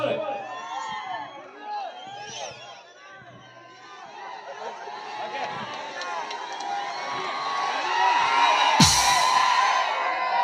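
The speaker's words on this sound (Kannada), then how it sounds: "ಜೋರಾದ ಚಪ್ಪಾಳೆ" Crowd cheers, whoops and claps for performers coming onto the stage at a Zee Kannada comedy show, a busy roar that swells toward the end with a sharp burst near the close, while voices talk and shout over it.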